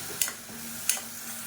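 A soft, steady sizzle from a pan of masala for spicy chutney sautéing, with two light scraping clicks of a spoon stirring, close and quiet.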